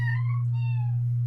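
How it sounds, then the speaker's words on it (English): A cat gives two quick meows in a row, the second one longer and falling in pitch, heard over a constant low electrical hum. "The people that I'm on the call with can hear the cat."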